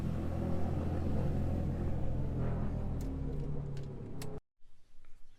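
A Nissan S13 with a CA18DET engine idles with a steady low rumble, close and constant, then cuts off abruptly near the end, leaving faint background noise.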